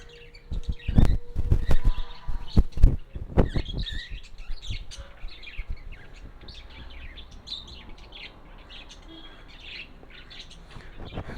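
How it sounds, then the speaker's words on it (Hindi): Many parrots call at a cremation ground in a dense outdoor chorus of sharp chirps, squawks and tweets. Loud close calls cluster early, then a busy, fainter twittering continues with no talk. "ये देखिए कितने प्रजाति के यहाँ पर ये तोते हैं।"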